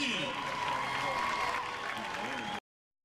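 Crowd applause rises for the Sevier County High School Marching Band at a 2022 high school football game against Knox West, a dense, steady wash of clapping and crowd noise that cuts off abruptly near the end.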